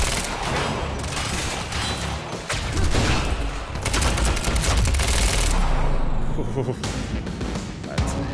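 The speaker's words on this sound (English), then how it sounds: "That's a heavy pistol." Heavy pistol fire in the game Quantum Break, dense bursts of shots layered with action effects, loud and continuous with a few sharper cracks, under spoken voices.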